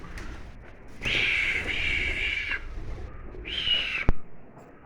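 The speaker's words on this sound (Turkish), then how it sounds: "Ahırda kuşlarımız da var." Birds kept inside a cattle barn on a village farm, with two sustained, bright calls, each lasting over a second, against quiet background rumble, followed by a sharp thump near the end.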